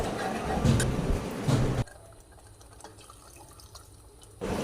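About two cups of water pour into a pot of tamarind fish curry (vanjaram meen kulambu) in a short, steady splashing rush that cuts off abruptly, followed by near silence.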